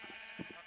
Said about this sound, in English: I think it's the sheep again.